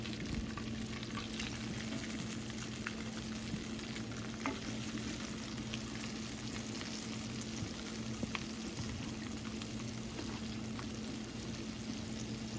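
Chicken tenders, coated without egg, frying in a covered skillet. The oil sizzles steadily and dense at a close distance, with scattered small pops and crackles and no talking.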